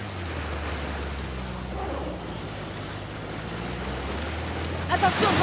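Wind blowing in the video game Uncharted: The Lost Legacy near ruins, a steady low rumble with a rising gust toward the end, moderately loud under a faint engine-like drone.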